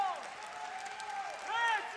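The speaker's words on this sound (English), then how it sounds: "Plenty for the crowd to cheer about." A crowd at a taekwondo Grand Prix final in Moscow applauds and cheers steadily in the background, while a voice talks prominently over it throughout.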